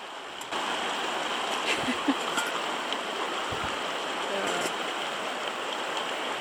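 Creek water in Whitehorse Wildlands Park rushing continuously over rocks beside a campsite, a steady broadband burble heard close, with a few faint knocks of gear and brief indistinct murmurs.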